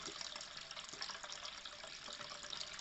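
Water runs steadily through the waste trap of a newly fitted shower tray, making a continuous, close, even rushing and gushing with no pauses.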